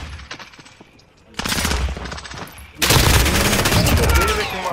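Gunfire in a Call of Duty multiplayer match on the Scrapyard map, with a lighter opening stretch giving way to loud sustained bursts and then a heavier barrage, while a voice talks faintly underneath.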